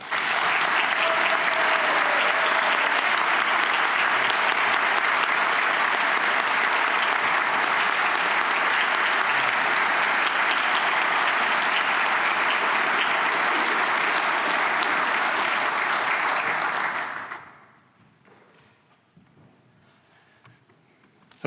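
Loud, sustained applause from a large audience at a health conference plenary in Melbourne fills the room for about seventeen seconds, then cuts off abruptly into quiet room tone.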